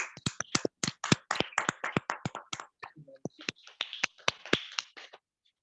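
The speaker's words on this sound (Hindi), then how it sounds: "जोरदार ताली।" Scattered applause from a few people joining a Zoom worship call, brisk uneven claps that build into a loose rhythm, thin out briefly, then pick up again before stopping.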